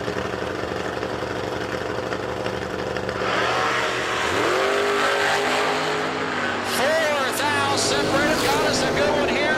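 Drag race cars, a Dodge Dakota and a Camaro, rev and launch at a drag strip, engines rising in pitch and accelerating away loudly after a steady idle, with an announcer talking over the whole run.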